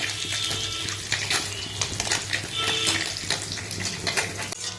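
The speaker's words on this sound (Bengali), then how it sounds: "এখানে দেখো ছোটো মাছটা ভাজছি" Small kachki fish frying in oil in a pan in a home kitchen, a steady close sizzle with scattered crackles and light clinks of utensils throughout.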